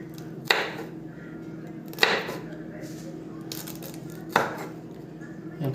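A knife chops a bell pepper into fine feather-cut strips on a cutting board, three sharp, close knocks spaced a second or two apart over a low background hum.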